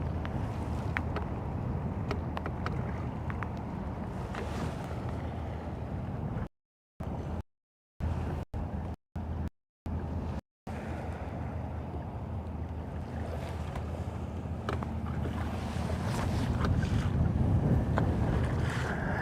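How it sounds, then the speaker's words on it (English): Wind gusting across a lake during a bass fishing trip from a boat, a steady rushing buffet against the microphone with water and boat noise beneath, briefly cut out midway. "Now we're just left with wind"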